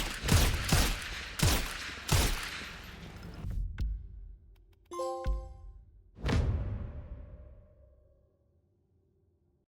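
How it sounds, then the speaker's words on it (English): An M1 Garand rifle with iron sights fires in Sniper Elite Resistance: several loud, sharp shots in quick succession, then bright metallic chiming tones, and one last crack whose echo fades away into silence. "we just grabbed the M1 Garand, took the sniper scope off, and just went at it"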